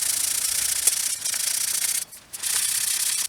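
Hand sandpaper rubbing paint off a bicycle frame, a close, steady hiss of back-and-forth strokes with two brief pauses, no talking.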